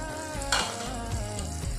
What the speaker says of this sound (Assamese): মছলাখিনি মই এতিয়া তেলত দিলোঁ।